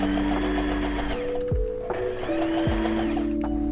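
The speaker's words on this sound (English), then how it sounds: "Open the tape, pin it to the right side of the fabric, and leave a little extra at both ends. Sew along the top of the line." A sewing machine runs steadily and close, stitching tape onto dress fabric, with a loud continuous whirring motor hum broken by two brief pauses as the speed changes, and no one talking.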